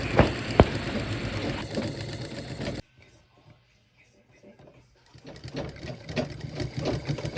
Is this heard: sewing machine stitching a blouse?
yes